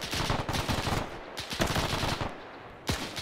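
Machine gun fire from an MG nest in the video game Arma 3, during a Brecourt Manor assault: loud, close, rapid automatic bursts crackling almost continuously, with a brief lull before another burst.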